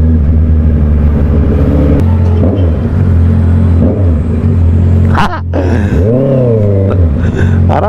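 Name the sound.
Honda CBR650R motorcycle exhaust revving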